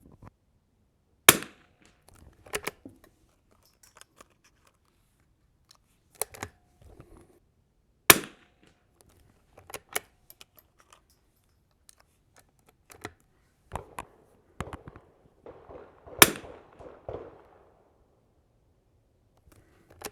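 A Winchester 52C rifle fires Eley and Lapua ammunition at a 100-yard range: about ten sharp, close shots spaced several seconds apart, with quiet handling noises between them.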